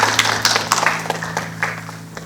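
Scattered clapping from a church congregation at a Korean youth worship service, a few distinct claps fading in and out over a steady low electrical hum, fairly close and thinning toward the end.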